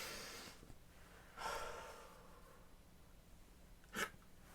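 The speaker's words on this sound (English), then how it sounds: "breathe in." A sharp, deep inhale through the nose at about one and a half seconds, then a shorter, sharper intake near four seconds, both standing alone against a quiet background with no talking.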